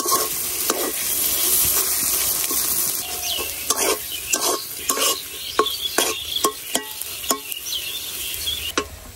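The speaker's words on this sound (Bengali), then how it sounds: "যদি আমার তেলের প্রয়োজন হয় তাহলে আর একটু তেল দিয়ে ভাজে নিলাম।" Pangas fish fries in oil with a steady hiss, while a utensil scrapes and taps against the pan in a loose rhythm that grows more regular toward the end, close and alone.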